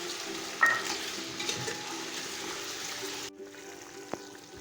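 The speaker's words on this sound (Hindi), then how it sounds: "चिकन अच्छी तरह फ्राई हो चुका था और अब इसमें मैंने अदरक लहसुन का पेस्ट डाल दिया।" Chicken fries in a pan with ginger garlic paste, a steady close sizzle with stirring clatter that drops to a softer hiss partway through.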